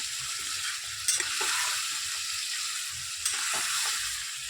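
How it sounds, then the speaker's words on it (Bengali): Boiled mutton being stir-fried in a pan for a Bengali goat-meat curry, a continuous close sizzle with bursts of spatula scraping and stirring. "এবার দেখুন আমি মাংসটা, সিদ্ধ করা মাংসটা দিয়ে দেবো। এবার আমি কষাবো"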